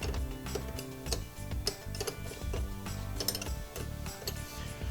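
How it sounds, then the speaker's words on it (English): A 13mm wrench works loose the negative battery terminal on a Polaris RZR, giving repeated metallic ticks and ratcheting clicks at close range with light clanks in between. "using a 13mm wrench, we're going to disconnect the negative battery terminal."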